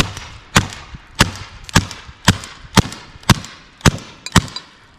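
A VKS less-lethal launcher fires VK ammo in a rapid series of eight sharp, loud pops at a fairly even pace, each with a short echoing tail.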